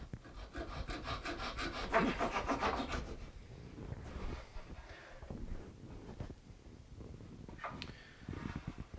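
Wooden side struts inside a steel-string guitar are trimmed shorter, giving close, rhythmic sawing strokes for a few seconds, then quieter scraping and handling sounds.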